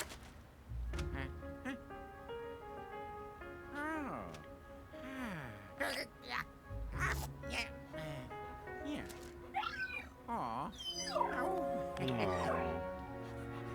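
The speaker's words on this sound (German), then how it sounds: "Was ist denn das für ein Köter?" A cartoonish dog in Luigi's Mansion 3 yelps and whimpers in short, high, bending cries. Game music plays softly beneath it, and a person talks in between the sounds.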